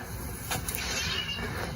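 A pet cat named Penny meows once or twice, close and fairly clear, over a steady background hum in a home game room.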